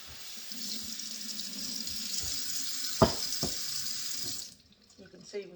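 Tap water runs steadily into a sink while black-eyed peas are rinsed, with a couple of sharp knocks near the middle before the flow stops and a short, quiet tail follows.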